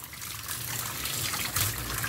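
Water pours and splashes over a flood-damaged computer motherboard as it is rinsed, a continuous close trickling rush with brief louder gushes and no voices.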